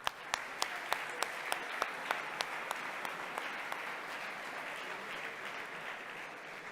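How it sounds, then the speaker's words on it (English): At a hackathon closing ceremony a large audience keeps up steady, moderately distant applause, with sharp individual claps and a whoop standing out near the start. "we would like to do another big round of applause for all of our partners"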